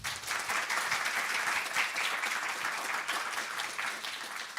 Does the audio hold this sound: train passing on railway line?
no